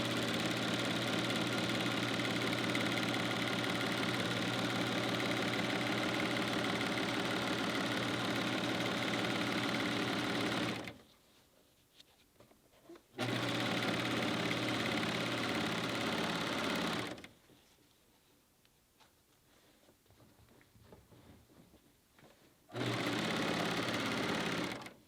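A sewing machine stitches binding with fusible thread, running in a steady fast whirring drone that stops twice, leaving quiet handling noise, before it starts up again.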